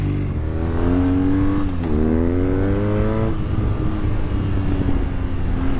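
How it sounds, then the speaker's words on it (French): A 2023 BMW R nineT Pure motorcycle, A2-restricted version, revs its engine up and down through the exhaust, loud and close, with rising and falling pitch. "Et le son de la ligne, mets-moi ça oh."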